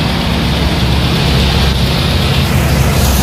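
A steady, broadband whoosh of air with a low mechanical hum underneath from the air conditioner of a 1979 Mitsubishi Celeste, continuous and fairly loud, with no voices.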